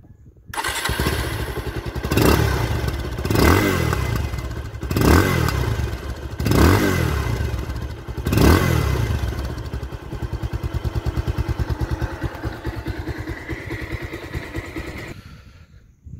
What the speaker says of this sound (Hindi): मैं आपको इसका एग्जॉस्ट का साउंड सुनाता हूँ